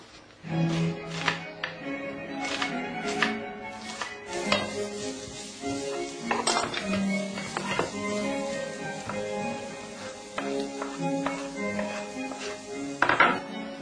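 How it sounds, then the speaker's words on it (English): Home cooking with tomatoes, eggs, garlic and onions: steady clinks and clatters of pots, pans and utensils, with chopping-like taps and light stirring, close by over a continuous kitchen hum. "I'm going to cook something now with tomatoes, eggs, garlic, and a little bit of onions"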